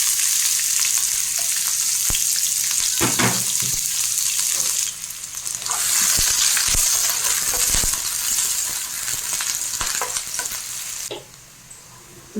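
Finely chopped onions and two green chillies fry in a couple of spoons of hot oil, a steady close sizzle with scattered scrapes and clinks of a spoon stirring, easing off briefly midway and near the end.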